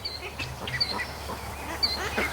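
Ducks by a creek giving scattered soft quacks and calls, several brief faint bursts spread over a few seconds against quiet outdoor background.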